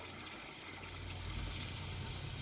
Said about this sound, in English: I'm gonna have to add a little bit more water